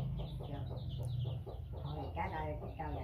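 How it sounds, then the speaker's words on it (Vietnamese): Chickens clucking repeatedly while being fed on a farm, close and fairly faint, with low background rumble and voices around. "Bà Tám mà cứ cho gà ăn là đeo khẩu trang vô"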